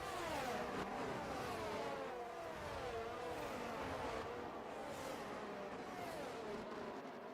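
Race car engines in a racing video game rev and climb in pitch while accelerating down the start-finish straight, with overlapping whining tones from several cars, steady and moderately loud, no speech.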